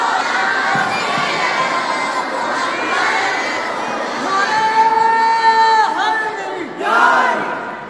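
A large crowd at a naat shareef gathering loudly recites salawat together, a dense, sustained wash of many voices chanting in unison, with rising drawn-out tones near the end.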